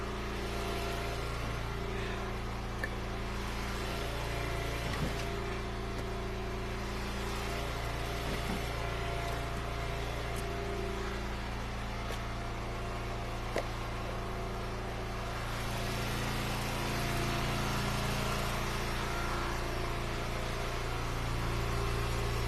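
A motor engine runs steadily while wet, waterlogged ash firewood rounds are split indoors, a constant low droning hum with occasional faint knocks and no speech.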